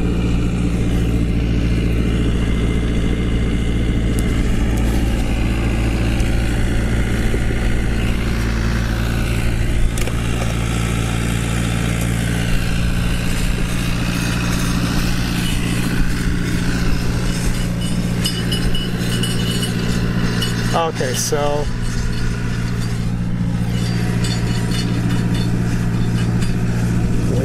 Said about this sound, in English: wait till the tractor gets a little further behind us.